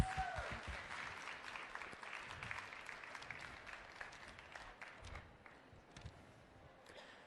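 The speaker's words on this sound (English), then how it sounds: "a round of applause" Audience applause at a social enterprise pitching event, as a speaker is welcomed to the stage; steady clapping from a room of people lasting several seconds, moderately loud and slowly thinning toward the end.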